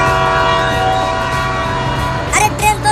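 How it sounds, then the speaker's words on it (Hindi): Cartoon train sounding a long steady horn before departure, with rhythmic clatter of rail cars underneath and a couple of sharp whistle blasts near the end, loud and alone. "अरे ट्रेन तो सीटी मार रही है।"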